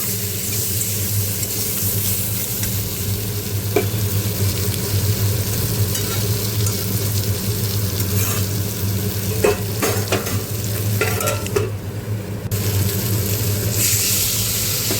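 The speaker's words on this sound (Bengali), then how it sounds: "একটা গোটা পেঁয়াজ আমি কুচিয়ে নিয়েছি, দিয়ে দিলাম। হলুদ গুঁড়ো দিলাম, কাঁচা লঙ্কা দিলাম কটা চেরা" Chopped onion with turmeric and slit green chilies stirred and frying in a pan for a Bengali dish, a steady close sizzle with scraping stir strokes and occasional clinks throughout, no talking.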